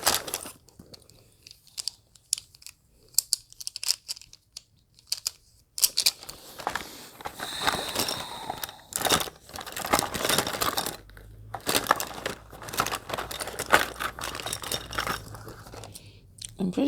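Rummaging through a pencil case, with crinkling, clicking and rattling of pens and small items in bursts of close handling, quiet at first and then busier and continuous.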